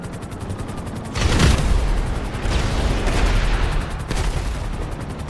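A rocket shot and explosion in GTA 5, a big boom at about one second swelling into a long roaring rumble, with a second surge later amid dense gunfire-like crackle.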